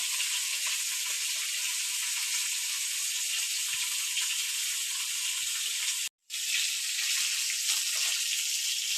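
Loud, continuous sizzling of catla fish frying in hot oil, broken by a momentary silent cut before the hiss resumes.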